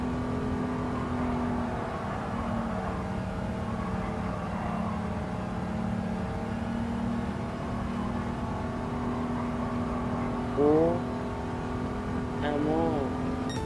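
Race car engine in Gran Turismo (My First Gran Turismo) holds a steady droning whine under full throttle, with a couple of brief rising revs near the end while someone talks over it.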